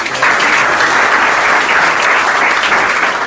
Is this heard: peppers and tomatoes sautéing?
no